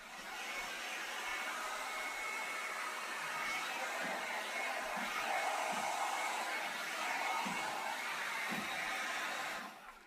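A 3-in-1 airstyler blows through an oval smoothing brush on a synthetic fiber wig, giving a steady, fairly faint whooshing hiss of air that continues for about ten seconds with slight shifts in tone.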